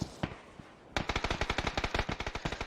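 A JV93 fires in a PUBG match: a lone shot, then a rapid, even burst of gunfire, close and sharp with no talk over it.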